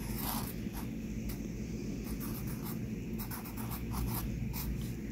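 A pen writes a Hebrew script letter on paper, giving a soft continuous scratch with short quick strokes, close but faint, and no talking.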